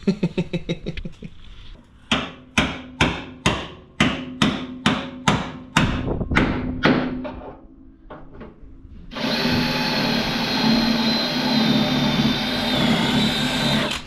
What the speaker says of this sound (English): when we bash it with the hammer it pops off